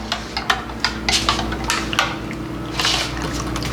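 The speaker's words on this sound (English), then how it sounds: "You just stir it really good until all the little particles are dissolved." Spoon stirs probiotic yogurt mixture in a container with steady wet swishing and repeated light clinks against the side, close and fairly quiet with no talking.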